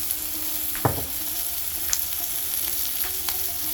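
Vegetables soften in avocado oil in a pan while a shakshuka is being made, giving a steady close sizzle with a few sharper crackles and brief stirring scrapes.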